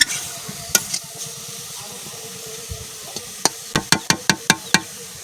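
Carrots fry in ghee in a pan over a high flame, a faint sizzle under quick sharp clicks and taps of a spatula against the pan, the strikes clustering in a rapid run near the end.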